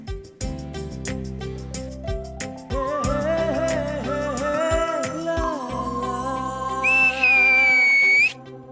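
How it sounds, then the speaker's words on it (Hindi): A person gives a clear, piercing whistle in a scene from a Hindi family sitcom. It holds steady for about a second near the end, rising over a busy background of other sounds. "सीटी क्यों मारी?"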